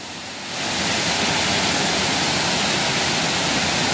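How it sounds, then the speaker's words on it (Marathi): A wide waterfall in the Konkan pours over a broad rock face, its dense, steady roar swelling in after half a second and then holding loud and unbroken, with no voices. "बघू शकता किती रुंद हा धबधबा आणि एकदम सुंदर वाटता."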